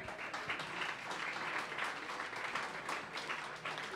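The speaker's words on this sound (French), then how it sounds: "Donc, une bonne main d'applaudissements." A room of around a hundred people claps together in dense, steady applause that holds at an even level throughout.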